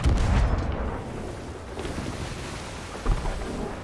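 Ship cannon fire in Sea of Thieves booms with heavy low thuds, one at the start and another near the end, over a continuous rumble of sea and wind.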